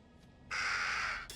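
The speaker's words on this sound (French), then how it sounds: "Corbeau, pas bon signe." A single harsh crow caw rings out in the horror game Little Hope, a loud drawn-out rasping call after a quiet moment, with a second call just starting at the end.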